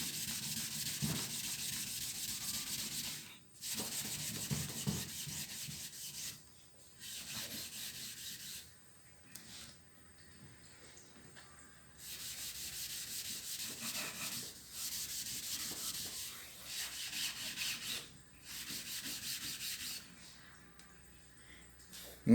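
A small towel rubs and polishes a wooden meat cutting board being finished with a non-toxic coating, heard as bursts of hissing friction strokes separated by short pauses, close and fairly loud.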